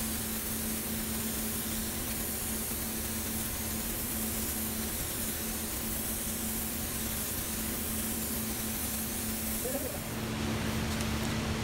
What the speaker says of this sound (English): let me try my hand at using the spray gun